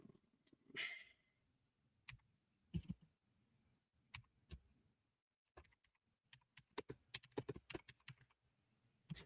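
Clicky computer keyboard being typed on quietly, in irregular bursts of sharp keystrokes with short pauses between them, and faint breathing in the background.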